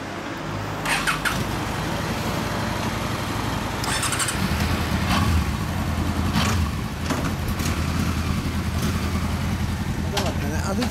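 A 2008 Honda CB1300 Super Four motorcycle engine with a Yoshimura exhaust idles with a steady low rumble throughout, with occasional brief clatters and voices nearby.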